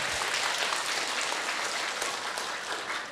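A live audience at a Vietnamese Buddhist Dharma talk breaks into steady, dense clapping that holds at an even level for a few seconds, with no voice over it.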